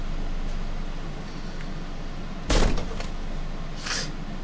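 A small, heavy unlocked door in the Disco Elysium video game is forced, giving a sudden loud cracking thud midway followed by a brief second knock, set against a low ambient hum.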